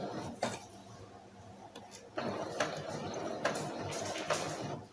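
Sewing machine stitching fabric around an edge with fine 2.5 stitches, a quiet run of soft mechanical ticks and clicks in short bursts, close by, with a low hum underneath.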